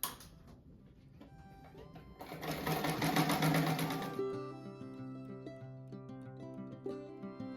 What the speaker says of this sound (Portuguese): Então, eu já passo uma costura aqui para deixar certo.